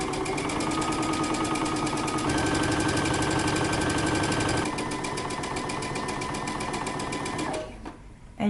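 A sewing machine runs steadily stitching a 3/8-inch seam on a dress, its rapid mechanical whirr and needle chatter close and continuous, shifting pitch slightly before slowing to a stop near the end.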